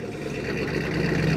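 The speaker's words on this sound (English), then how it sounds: "There's a TVR Chimera making a lovely noise in the background." A TVR Chimera's Rover-derived V8, enlarged to around four litres, burbles steadily nearby at a classic car meet, a low rhythmic rumble that grows slightly louder as the moment goes on.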